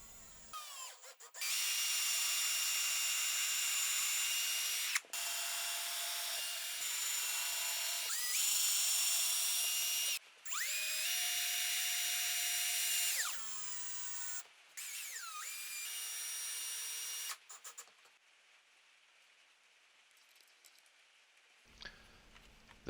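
A power drill drives screws into the wooden joints of a bird feeder being restored, whining in several long, high-pitched bursts separated by brief pauses, close and loud, with pitch sweeps as each screw seats, then quiet.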